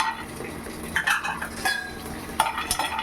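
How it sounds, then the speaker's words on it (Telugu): Dry coconut pieces and cashews dry-roasted in a pan without oil for Hyderabadi bagara baingan gravy, heard as scattered scraping stirs and light clinks of a spatula against the pan over a soft background, with no talking. "దీన్ని డ్రై ఫ్రైయే చేసుకోవాలండి ఆయిల్ అవసరంలా"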